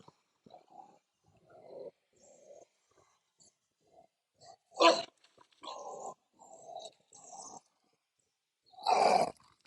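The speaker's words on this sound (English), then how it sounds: "I'm going to step off the screen and stop my dog from chasing this very vicious log" A dog named Piper on a beach, going after a log in the surf, gives bursts of growls, grunts and barks, some close and sharp and others softer, spread unevenly over quiet gaps.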